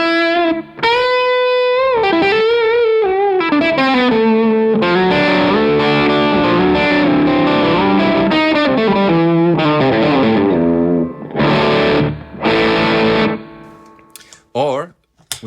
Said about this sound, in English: I can add some slapback, which I have here set up on the Mood.